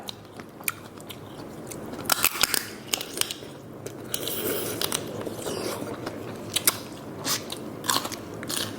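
Spicy pickled field crab salad being eaten up close, with crisp bites and crunches scattered through steady wet chewing, and no talking.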